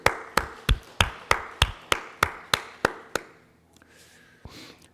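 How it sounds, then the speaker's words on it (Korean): A church congregation gives thanks with a burst of clapping at a Sunday worship service: about eleven sharp, evenly spaced claps ring out in unison, then stop, leaving a quiet room with faint murmurs. "우리 하나님께 감사의 박수 하겠습니다."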